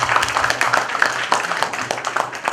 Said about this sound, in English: Can we have a round of applause for Sadaf?